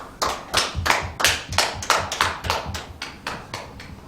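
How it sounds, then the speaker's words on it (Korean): A congregation at a Friday church prayer service claps together in steady, rapid bursts, clear and fairly close, with no voices over it. "우리에게 은혜 주신 하나님께 영광의 박수 올려드리겠습니다"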